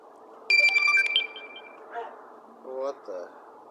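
A phone notification chime sounds once, bright and fairly loud, beside a jet lighter and a flickering flame outdoors, followed by a couple of short quieter tones as a person murmurs.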